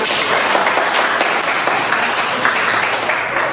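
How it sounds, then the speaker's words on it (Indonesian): Clapping from a class of students, a dense, steady wash of many hands at close range for the whole stretch, with no clear pauses and faint voices mixed in. "gue tepuk tangan dulu dong untuk kita"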